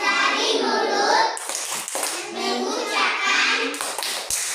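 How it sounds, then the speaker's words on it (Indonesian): A group of children in a classroom lesson chant a thank-you cheer in unison, punctuating the rhythmic words with sharp, evenly timed claps, close and lively. "Tepuk terima kasih untuk kita semua."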